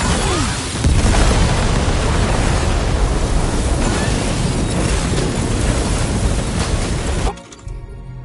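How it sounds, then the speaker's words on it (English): The Magellan's main cannon in the video game Death Stranding 2 fires as a huge, sustained roaring blast of dense rumbling noise that cuts off abruptly near the end, leaving a quiet low hum. "The Magellan's main cannon is online and ready."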